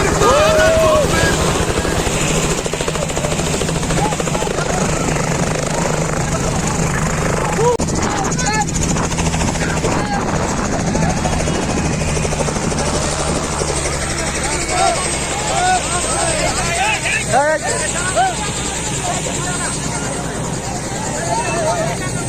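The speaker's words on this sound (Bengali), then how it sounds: "ভিডিওতে যে হেলিকপ্টারটি দেখতে পাচ্ছেন" A helicopter flies over a wedding in Araihazar, its steady rotor and engine roar continuous and fairly close, with crowd chatter and voices mixed in throughout.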